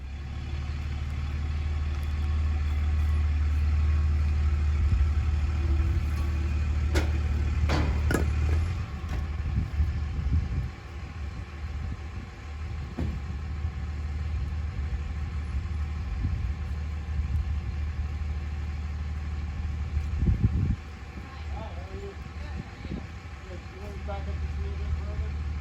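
A truck engine idles steadily at close range for a firewood delivery, its low rumble continuing throughout with brief louder bumps and clunks around the middle and near the end, with people talking over it.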